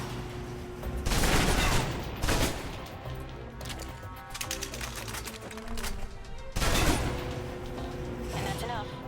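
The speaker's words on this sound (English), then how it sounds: "Now for your submachine guns." Submachine gun fire in the video game Alpha Protocol, two heavy close bursts of rapid shots with scattered single shots and clatter between them, over a steady game background with some voice underneath.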